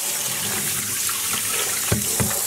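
Water poured steadily onto dyed fiber samples in a dyepot session, a continuous close rushing splash with two brief knocks near the end and no voices.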